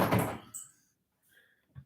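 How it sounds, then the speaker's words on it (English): A chair knocked over by a puppy tugging on a coat lands with a sharp clattering bang at the start, followed by a brief knock and faint rattling as things settle. "The noise you heard was a little puppy pulling on my coat so much until he just turned the chair over next"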